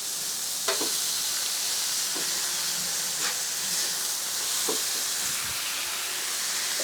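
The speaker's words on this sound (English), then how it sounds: "We will give these burgers a nice flip." Buttered burger patties for a French onion soup burger sizzle steadily in a pan just after being flipped, a continuous loud frying hiss with a few faint knocks and no talking.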